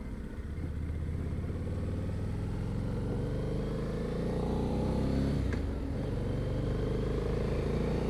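A 2013 Harley-Davidson Night Rod Special being ridden, its engine holding a steady, close rumble under constant road noise throughout, with no clear revving peaks.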